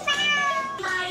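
A voice imitates a cat's meow with one drawn-out, fairly loud mewing call that dips and rises near its end, heard up close.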